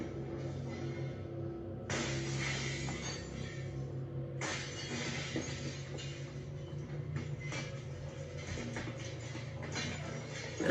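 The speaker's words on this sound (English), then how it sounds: "The man was able to use a piece of firewood to shatter one of the windows." A house window is smashed with a piece of firewood, loud bursts of shattering glass recurring several times over a steady background noise, with tinkling fragments trailing after each break.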